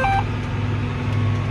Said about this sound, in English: We'll give you a little folding notification, caution, folding, unfolding